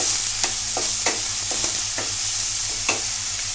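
Onions with turmeric and salt fry in a pan for Sindhi seyal sabzi. A constant close sizzle runs throughout, broken by sharp, irregular clicks of a utensil stirring and scraping the pan. No one speaks.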